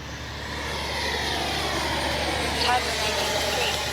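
An Arrows RC F-15 model jet with twin 64mm ducted fans passes by with a smooth, steady whine that swells slightly as it nears, mixed with wind-like roar and some background chatter.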